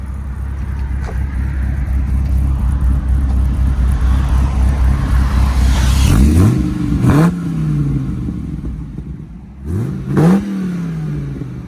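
An American V10 truck engine idles with a deep low rumble, then is revved twice in sharp rising and falling sweeps, loud and close, with no talk.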